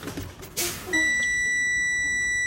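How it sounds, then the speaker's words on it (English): A truck's low air pressure warning buzzer sounding during a brake fan-down on a CDL pre-trip inspection, a steady high electronic tone that comes on abruptly after a brief rush of air and holds loud. "looking for the buzzer and warning light to come on at 60 or above"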